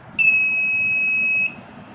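A homemade UPS transformer being switched on gives a steady, loud electronic tone lasting just over a second, then stopping abruptly over a faint background hum.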